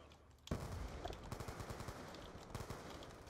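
AN-94 assault rifle fire in Black Ops 2: a sharp shot, then a steady stream of rapid, evenly spaced automatic rounds, loud and close, over continuous game background noise.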